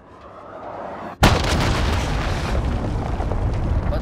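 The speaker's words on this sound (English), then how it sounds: "Enemy cruise missile." A cruise missile strike in the Call of Duty video game hits with one sudden, loud boom after a quiet moment, followed by a sustained rumbling roar that carries on to the end.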